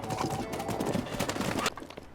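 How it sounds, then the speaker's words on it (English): Horse hooves clip-clop steadily in Breath of the Wild as the rider takes the horse toward Eldin Tower, a brisk, close rhythm of rapid clopping that cuts off near the end. "let's take Epona out of the stable and use her to get us to Eldin Tower"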